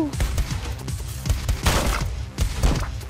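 Rapid bursts of automatic gunfire from the Megabyte Punch video game, loud and close, with repeated thumping shots clustered in quick volleys.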